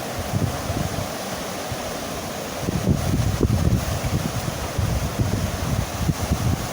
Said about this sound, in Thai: อุปสัรครับวันนี้ลมลมแรงมากครับ